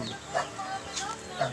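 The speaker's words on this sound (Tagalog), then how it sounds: "Susundan siya ng mga manok." Chickens on a small provincial farm in San Felipe, Naga, Camarines Sur, giving a few short scattered clucks at low volume over faint background noise.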